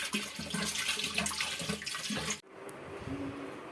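Water pours steadily into a clay matka pot with a close, rushing splash that cuts off abruptly partway through, leaving a quiet room.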